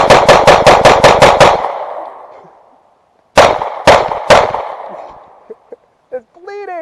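A gun fires at a pumpkin outdoors: a rapid burst of about eight loud shots, then three more spaced shots, each with a ringing decay, followed by faint knocks and a brief voice.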